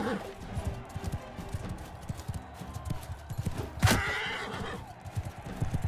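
Horse neighing with hoof clip-clop in the Mount & Blade II: Bannerlord video game, steady hoofbeats running throughout with a sharp whinny near the middle, set against a busy battle soundscape with background chatter.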